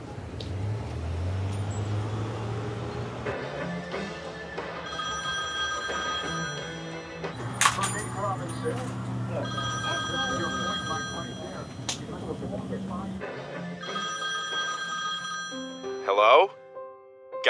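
A telephone rings in a room over a steady low hum and background noise, with several rings repeating before the line cuts to voicemail; people's voices are heard around the ringing.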